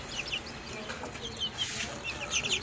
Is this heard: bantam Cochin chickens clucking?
yes